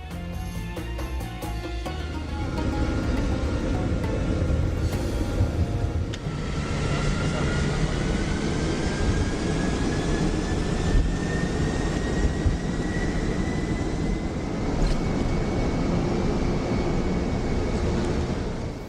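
Airliner engines roaring steadily through a night takeoff from Dubai, heard from inside the cabin, with a rising whine sweeping upward as thrust builds over a continuous loud rumble.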